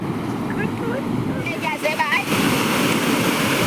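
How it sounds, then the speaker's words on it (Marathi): Rain-swollen water pours out of a village pond in a steady, broad rush, with wind buffeting close by and faint bird calls over the flow. "आज जरा जास्तच पाणी वाहत आहे तळ्यातून"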